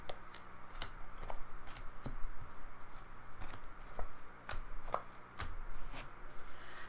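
Tarot cards laid one by one onto a table during a reading, a series of crisp slaps and flicks at an uneven pace, close and fairly soft, with no voice over them.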